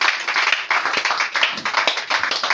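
A congregation applauds in church to acclaim the Lord, with dense continuous clapping from many hands that stays close and loud throughout.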